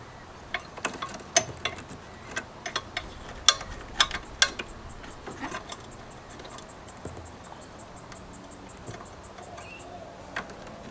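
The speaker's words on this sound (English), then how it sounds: "we're just going to get our little pick here and undo these clips" A small pick works plastic clips free under the bonnet of a Ford Ranger during a basic engine service, giving a run of sharp, close clicks and snaps, then a faint high repetitive ticking.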